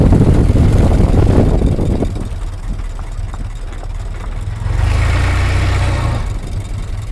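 A Ford Model T engine runs close by with a deep, steady low rumble that eases off midway, then swells louder again before settling, no one speaking.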